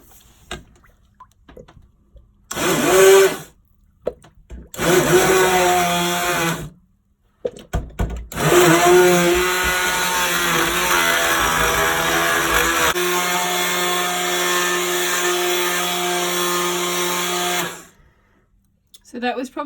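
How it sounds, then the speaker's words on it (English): A stick blender whirs through a soap mixture with melted coconut oil in a few short bursts, then runs loudly and steadily for about ten seconds before stopping. "So I'll get my stick blender now."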